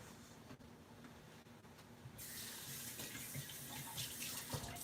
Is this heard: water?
yes